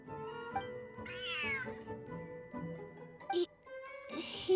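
A cat meows in a video game, a clear drawn-out meow rising and falling over soft background game music and effects, followed by brief chimes.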